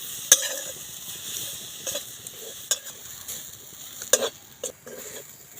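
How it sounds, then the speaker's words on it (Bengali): Grated coconut dry-roasted in a dry pan, stirred with scattered scraping strokes and light dry sizzle, close and intermittent with a few sharper clinks. "শুকনো কড়ার মধ্যে দিলাম, দিয়ে একটু ভেজে নেবো নারকেলটা"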